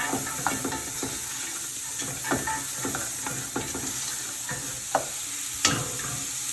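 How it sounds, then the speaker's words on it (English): Carrots and celery stirred in a soup pot for split pea soup with ham, giving scattered light scrapes and clinks of a utensil against the pot over a steady sizzling background, with one sharper knock near the end. "to my pot I'm going to add my carrots and my celery. Give that a good stir."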